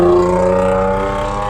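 A Mercedes-Benz AMG C43 in Sport Plus mode holds a loud, steady engine drone as the accelerator pedal is feathered, with the sound easing slightly over a short stretch.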